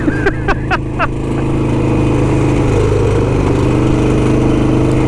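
A motorcycle engine idles loud and close, with a rapid metallic rattle from its heat shields that mimics a Ducati dry clutch. A few sharp knocks open the clip before the steady, throbbing idle settles in.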